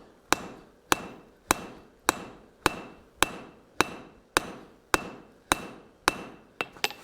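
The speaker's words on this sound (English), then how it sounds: "put it through the anvil, and we're just going to upset the shoulder lightly on this one" About a dozen sharp, ringing hammer blows fall in a steady rhythm on hot steel, upsetting the shoulder of an anvil bic being forged on an anvil. The strikes are close and loud, with a few quicker taps near the end.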